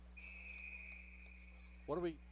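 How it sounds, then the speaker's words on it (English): A referee's whistle sounds at the end of a period in a junior varsity hockey game. It is one long, steady, shrill blast held for about a second, and a voice follows just after it. "I've never seen anybody blow a whistle at the end of the period."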